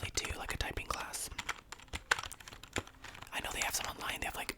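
ASMR tapping and fingernail clicking on assorted random objects, a busy stream of close, quiet taps with crinkly touches, sounding much like keyboard typing, with soft whispering at times.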